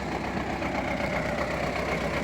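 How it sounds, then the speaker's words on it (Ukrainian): MTZ tractor diesel engine running steadily while ploughing a field, a continuous low, even rumble at close range with no talk over it. "Ось трактор в борозді стоїть."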